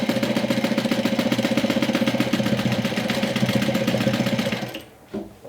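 A domestic sewing machine stitches a Sew Sweetness Gloss cosmetic bag with stabilizer, giving a rapid, steady mechanical whir and needle chatter for about five seconds before stopping, with a small clunk after.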